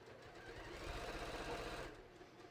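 A sewing machine runs steadily as it stitches a small card pocket onto a hiking belt, a continuous close motor whir for about two seconds before slowing to a stop.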